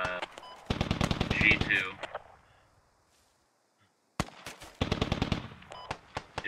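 Loud bursts of rapid automatic fire from a BTR armored vehicle in the military shooter Squad, one long burst, a silent pause, then a second sustained volley, with a brief spoken callout.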